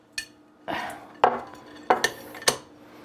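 A metal mini pumpkin pie pan is handled and flipped upright on a kitchen counter, giving a series of sharp clanks and clatters spaced over a few seconds, close and distinct against a quiet room.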